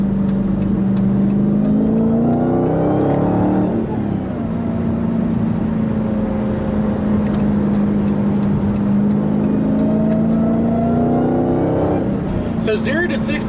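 A 2020 Dodge Challenger Hellcat with a manual gearbox accelerates up a highway entrance ramp, its loud engine note rising through two long pulls separated by a gear change, heard from inside the car.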